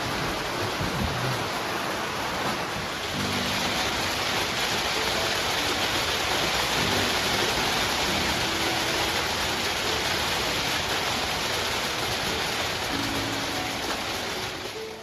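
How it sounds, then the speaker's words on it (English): Heavy downpour drumming on a cabin roof at Olallie Lake during an August thunderstorm, a dense, continuous hiss of rain that stays loud and even throughout, with faint low sounds beneath it. "Downpour."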